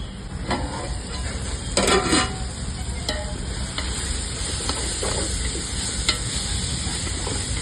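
Tomatoes frying in a pan for brinji rice, giving a continuous loud sizzle with occasional stirring scrapes and a brief burst of hissing partway through; no voices.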